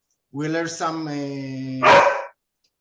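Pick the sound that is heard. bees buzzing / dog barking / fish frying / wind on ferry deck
dog barking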